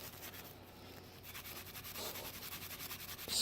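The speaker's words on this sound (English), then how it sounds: "scrub there in the grooves on the outer part" A lug's outer grooves scrubbed by hand, giving a soft, close, continuous rubbing and scraping texture that grows slightly louder toward the end, with no talk.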